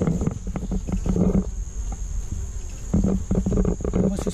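A honeybee colony at a hive in an apiary produces a dense, steady buzzing, heard close up with low rumbling handling noise in bursts and no talking.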